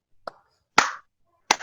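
Students in a first-grade classroom do a clapping chant, producing a pattern of two sharp claps, then a single clap after a short gap, close and crisp against near silence.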